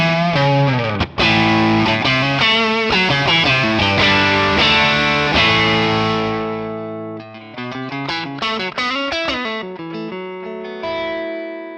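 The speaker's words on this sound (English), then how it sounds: "Let's do a tube screamer one. You know, Strat tube screamer." A Stratocaster electric guitar played through a Tube Screamer overdrive pedal and a 1967 Sound City One amp rings out in distorted chords and picked notes, loud and close, with a touch of reverb.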